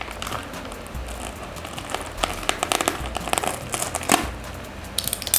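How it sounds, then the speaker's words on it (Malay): Plastic packaging around a backlight lamp crinkles and rustles up close during unboxing, with irregular crackling bursts and a few sharper snaps, steady throughout with no talking. "Sebenarnya bila kita unboxing ni, bunyi plastik ni dia rasa"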